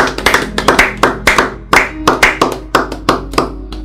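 A congregation claps in quick, steady rhythm during a prayer service, loud and close, with dense overlapping hand claps and no voices.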